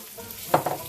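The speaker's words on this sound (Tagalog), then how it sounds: "Gisa-gisa lang po natin muna yung sibuyas." Sliced onion sautéing in hot oil as the base for chicken carbonara, a short, soft sizzle with a couple of quick scraping stirs close by.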